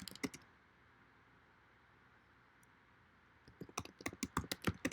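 Typing on a computer keyboard, a quick burst of key clicks at the start, a quiet pause, then a longer run of close, crisp keystrokes toward the end.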